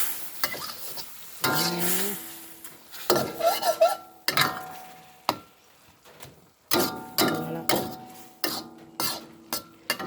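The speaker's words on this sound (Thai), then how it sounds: "ก็ผัดผักใส่พริกไทย" Bean sprouts and pork stir-fried in a home kitchen pan, with a spatula scraping and clanking against the metal in irregular bursts over a light sizzle, loud and close.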